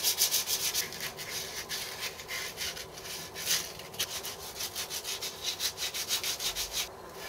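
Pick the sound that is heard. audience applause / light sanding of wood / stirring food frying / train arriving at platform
light sanding of wood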